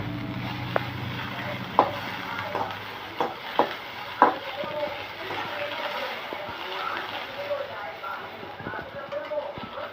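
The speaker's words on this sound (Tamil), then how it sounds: "வெண்டைக்காயை போட்டு இப்படி ஃப்ரை பண்ணணும்" Okra frying and being stirred in an oiled pan, a steady sizzle with scattered scraping and clicking stirs, while a person talks throughout.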